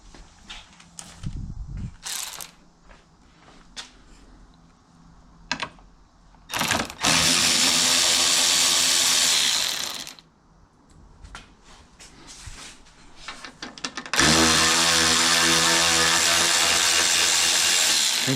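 A ratchet or power tool spins out the headlight bolts on a Pontiac G8 with the bumper removed, sounding as short clicks and then two long, loud, steady whirring runs close by.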